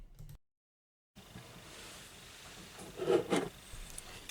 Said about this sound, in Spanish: Con el trocito de tela de algodón limpiamos a fondo la parte posterior de la tapa del motor